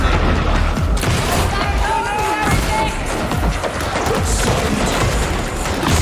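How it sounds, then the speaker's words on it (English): Video game grenade blast amid a dense, loud barrage of crashes, booms and gunfire-like impacts, continuous chaotic battle noise with voices shouting in the mix. "Grenade, no!"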